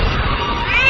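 A black cat meows in a horror-romance cartoon, one loud drawn-out cry that rises slightly toward its end, heard alone without talk.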